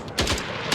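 Video game weapon gunfire from a game engine demo with muzzle flash: two or three quick, loud, close bursts in under a second, with no voices.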